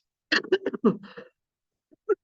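A man giving a Turkish history exam answer lecture clears his throat in a quick run of rough bursts, then lets out one short cough after a pause, close to the mic with no talking.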